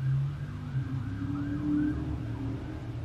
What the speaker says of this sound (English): Listen to the sirens as that happens.